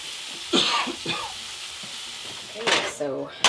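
Sautéed mushrooms sizzle steadily in a frying pan, a constant close hiss broken by a few coughs and throat clearing.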